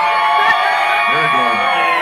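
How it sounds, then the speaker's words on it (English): A live audience at a comedy show cheers and whoops, a dense crowd roar with shouts, loud and sustained for a couple of seconds. "Make some noise, make some noise. I need y'all to cheer like gas is 99 cents."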